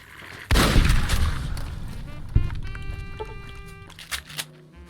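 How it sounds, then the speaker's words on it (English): In Fallout: New Vegas, a gun fires with the reused 9mm pistol sound: a loud, sharp report with a ringing tail, then a second shot about two seconds later over faint game ambience. "Couldn't even be bothered to give it a new gunshot sound, they just reused it from the 9mm pistol."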